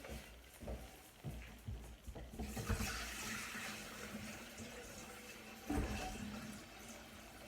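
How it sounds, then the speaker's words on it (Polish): Running tap water pours steadily into a mixing bowl, a continuous splashing rush with a few clunks and knocks of handling, fairly quiet and close. "Nalałam wody do maksa, żeby mi się też pokrywka z zewnątrz umyła."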